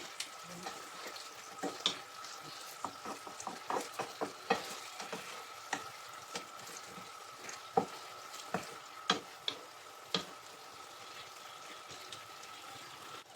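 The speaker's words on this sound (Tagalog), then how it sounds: "Luluto na ating butter shrimps." Butter shrimp with garlic frying in a pot, a steady sizzle broken by frequent sharp stirring scrapes and clinks, close and alone with no talk.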